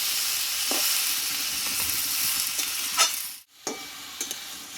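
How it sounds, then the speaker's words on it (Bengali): Pumpkin and potatoes frying in a pan give a close, steady sizzle, broken by a few distinct spatula scrapes and knocks and one brief dip before the frying carries on. "কুমড়োটাকে ভালোভাবে কষিয়ে নেব আলুর সঙ্গে যাতে কাঁচা গন্ধটা চলে যায়"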